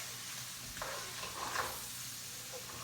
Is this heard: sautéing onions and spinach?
yes